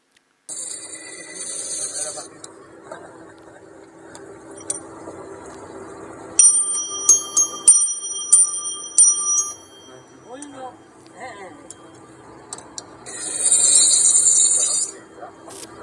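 Handmade Montessori bells from a Tuscany, Italy workshop ring in clear, bright metallic tones, heard in separate sustained bursts with pauses between, alongside a steady background hum and occasional softer sounds.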